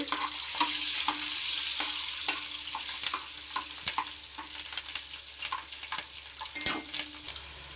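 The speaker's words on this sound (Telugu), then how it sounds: "అదే నూనెలో పచ్చిమిరపకాయలు వేసుకొని బాగా ఏపుకోవాలండి" Green chillies frying in the same hot oil, a steady sizzle with scattered crackles and pops and occasional stirring ticks, close up and alone without speech.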